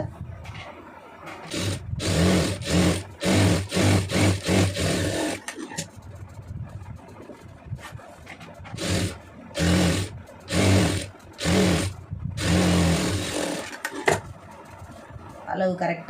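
Sewing machine stitching the folded inner edge of a plain blouse, running in rhythmic bursts of rapid mechanical whirring separated by pauses, with a person talking between and over the runs.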